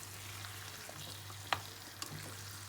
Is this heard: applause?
no